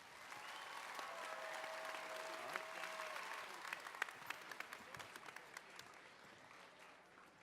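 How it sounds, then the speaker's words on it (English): Applause from an elementary school awards ceremony audience greets the first place winners of a grades 5 and 6 tech challenge, a steady wash of many hands clapping throughout, with sharper individual claps standing out near the end as it tapers. "Big applause for first place."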